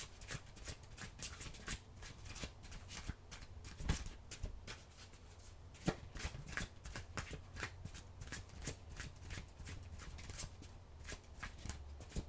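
Oracle cards being shuffled by hand, a steady close riffling and flicking of card stock with soft slaps, continuous and fairly quiet throughout.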